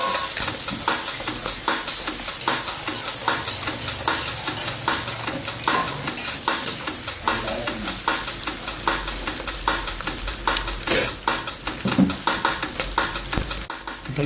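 Bhutan, goat offal, frying in a pan and turned over and over, a dense continuous sizzle broken by repeated scraping stirs and occasional clatter of the utensil against the pan, close and fairly loud.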